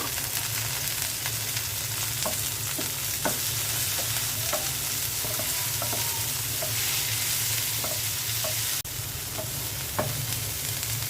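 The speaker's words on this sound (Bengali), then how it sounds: "এখন আমি এখানে চিংড়ি শুটকিটা অ্যাড করে দিচ্ছি।" Dried shrimp frying in oil with onion and garlic in a pan, a continuous close sizzle broken by scattered spatula scrapes and taps, no speech.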